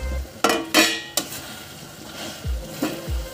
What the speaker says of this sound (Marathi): आता आपण चिकनचे पीस घालून घेऊ.